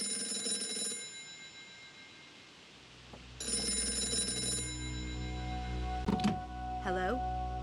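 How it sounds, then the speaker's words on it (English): A telephone in the adventure game Gray Matter rings twice in bright electronic trills separated by a short pause, then a voice speaks. "How did you know the phone would ring just now?"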